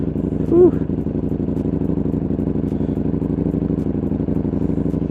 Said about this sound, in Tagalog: Naririnig nyo ba yung exhaust?